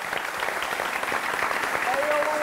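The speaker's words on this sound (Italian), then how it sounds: "Vogliamo fare l'ultimo applauso" A crowd applauds steadily, dense clapping filling the space throughout, with a faint tonal whistle near the end.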